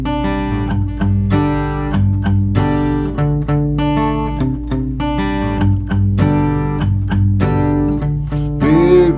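Guitar plays a song intro, steady picked notes ringing over a low repeating bass pattern, loud and continuous with no voice.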